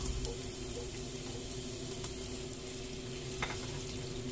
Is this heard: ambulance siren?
no